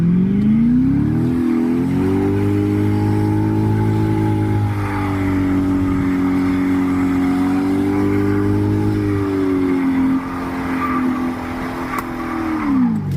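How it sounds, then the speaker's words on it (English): A C6 Corvette holds a loud, sustained high-rev engine roar through a burnout, pitch wavering up and down, then the revs drop off near the end. "All right, one more burnout."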